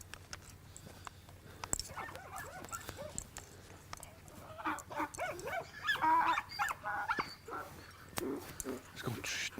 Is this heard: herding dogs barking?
yes